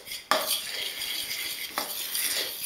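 Flour, eggs and salt mixed into pasta dough in a bowl, with a sharp utensil knock against the bowl, then soft scraping and stirring and another clink partway through.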